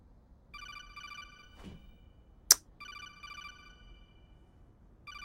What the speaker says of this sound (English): Can she hear the codec ringing?